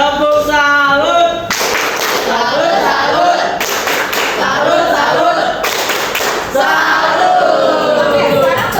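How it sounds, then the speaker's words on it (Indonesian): A high school class performs the 'tepuk salut' salute clap together, rhythmic bursts of many hands clapping and thumping in unison, loud and close, with voices chanting along throughout. "Tepuk salut. Tepuk salut."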